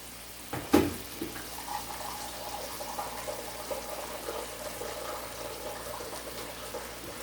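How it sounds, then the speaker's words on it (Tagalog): Hot water being poured while preparing a dish in a kitchen, a steady running, splashing pour following a brief clatter, moderately loud and continuing throughout without speech. "Tapos, maglalagay tayo ng hot water."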